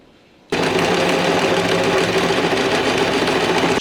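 A sewing machine starts abruptly and runs steadily at speed, stitching along the inside of a trouser waistband, with a loud, close, continuous mechanical whirr and rapid needle clatter after a short quiet lead-in.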